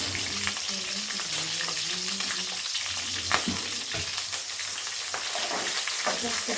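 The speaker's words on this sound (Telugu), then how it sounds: "నూనె వేడిన తర్వాత మనం పచ్చిమిర్చి వేసుకున్నాము" Green chillies frying in hot oil for a Telugu tomato-chilli chutney, a steady dense sizzle and crackle close up that holds at an even level throughout.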